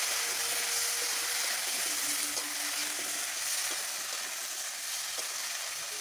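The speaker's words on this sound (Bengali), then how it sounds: "মাছ ভাজা চলছে।" Fish fries in a pan with a steady, close hiss and crackle of hot oil, even and continuous, with a few faint clinks beneath.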